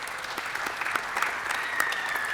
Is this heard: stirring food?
no